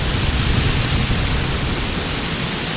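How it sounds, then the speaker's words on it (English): Outdoor breeze, a steady, full broadband rush of moving air that holds constant throughout with no voices. "Hear that breeze?"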